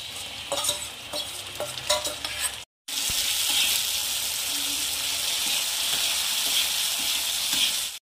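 Garlic is dropped into browned onion frying in a pan. A busy sizzle with stirring clatter breaks off for a moment, then surges back as a loud, dense, continuous hiss that lasts to the end.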